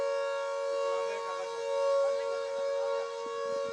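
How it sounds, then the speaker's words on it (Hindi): An air raid siren wails during cross-border firing at the Line of Control, a steady sustained tone holding at a constant pitch throughout, loud and continuous with faint background noise beneath. "आप देखिए सायरन किस तरीके से गूंज उठा।"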